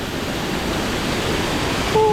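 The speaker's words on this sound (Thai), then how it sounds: "อันนี้คือหัวน้ำตกนะ" Water rushes steadily at the top of Tad Hua Suea falls, a loud, continuous broadband roar close by, with a brief tonal whistle-like sound right at the end.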